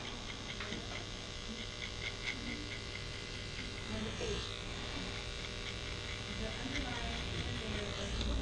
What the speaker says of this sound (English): go back with your T-liner and just clean up that line